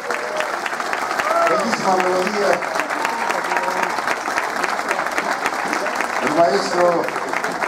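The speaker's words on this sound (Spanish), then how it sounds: "aplauso" Audience applause following a symphonic band performance, a dense, loud, continuous wash of clapping lasting throughout, with a voice speaking over it.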